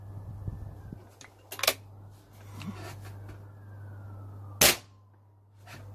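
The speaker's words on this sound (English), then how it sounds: "While I'm here, I might as well shoot one off." A magazine-fed air rifle fires two sharp, loud cracks, the first near the middle and the second late, each a brief snap over a steady low hum with no talking.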